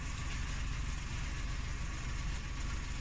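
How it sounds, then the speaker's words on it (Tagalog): The automatic radiator cooling blower fan of a Suzuki Every wagon runs alongside the engine, making a continuous, even whirring roar with a low hum that stays steady and fairly loud, with no talking. "Blower. Automatic blower ng makina."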